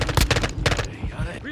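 Bursts of automatic gunfire in the video game Call of Duty: Modern Warfare II, loud and close, with dense rapid rattles broken by a brief lull and a faint game voice.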